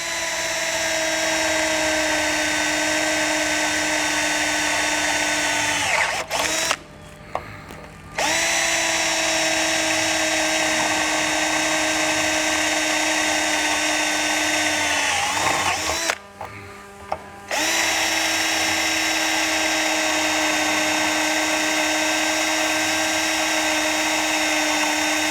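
A power drill with a 1/4 inch bit bores holes while fitting a radiator kit to a Yamaha YXZ, running as a steady loud whine for long stretches, broken twice by brief pauses before it spins up again.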